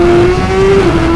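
A superbike, either an Aprilia RSV4 1100 Factory or a Suzuki GSX-R1000R, pulls hard through the gears with a loud, close, steady high-pitched engine tone for just over a second.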